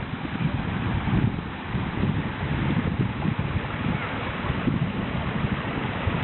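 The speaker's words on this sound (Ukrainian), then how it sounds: "Водичка шумить, такий рукотворний." Constant rushing water pours and splashes from a man-made stone waterfall in Lenola, Italy, a dense, even hiss with a low churning undertone and no pauses.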